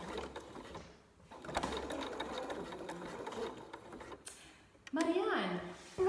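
A sewing machine runs short bursts of backstitching on upcycled t-shirt fabric, a rapid, steady mechanical whir that pauses briefly midway, with a voice briefly heard near the end.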